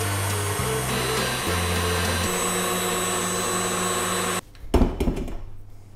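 An electric hand mixer with a whisk attachment whips three egg whites in a bowl, a loud steady whirring drone that shifts pitch as the speed changes, then cuts off abruptly into a few clattering knocks.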